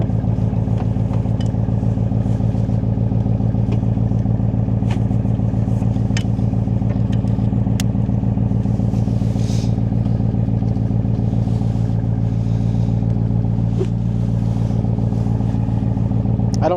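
A Coyote-powered 1965 Backdraft Racing Cobra replica with 400+ horsepower drives down the road, its loud, steady engine drone filling the cabin with a slight rise toward the end, with no voices.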